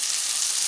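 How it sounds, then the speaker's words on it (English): Meat searing as the sides of a pot roast brown in a hot pan before going into a crock pot, a steady close hiss and sizzle holding even throughout with no talk over it. "I am searing the sides."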